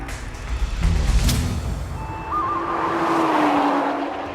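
A Nissan GT-R R35 runs fast on country roads, its engine swelling as the tires squeal in a long, wavering screech, loud and close.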